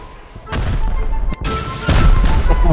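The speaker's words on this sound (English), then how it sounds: "shoot the rockets." Rockets fired in the video game Rust, a series of loud booming blasts with rumbling tails, the heaviest one near the end, close and dominant.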